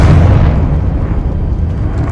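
A Confringo fire blast spell bursts in Hogwarts Legacy, a loud, deep rumbling explosion that starts at full force and rolls on steadily for about two seconds, dense and boomy with no voices over it.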